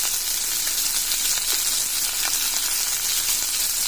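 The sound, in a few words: curry leaves sizzling in hot oil after onions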